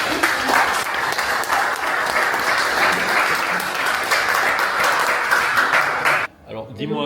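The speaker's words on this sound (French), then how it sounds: "Je vous demande d'applaudir Nada, s'il vous plaît." An audience applauds a presenter named Nada at a trading event, steady dense clapping filling the room for about six seconds before cutting off, followed by a brief spoken word.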